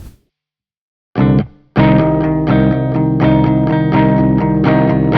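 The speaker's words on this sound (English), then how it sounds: "I'm just going to put a gentle tube screamer in front of it, just a little bit" Electric guitar chords through a Tube Screamer pedal with a lightly overdriven, slightly gritty tone ring out loud and close after a short silence, one stab and then sustained strumming.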